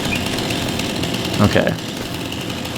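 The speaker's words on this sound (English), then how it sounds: "I need my chainsaw" A chainsaw in a farming video game drones steadily, loud and continuous, with a brief word spoken over it partway through.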